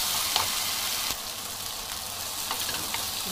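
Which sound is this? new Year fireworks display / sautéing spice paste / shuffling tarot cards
sautéing spice paste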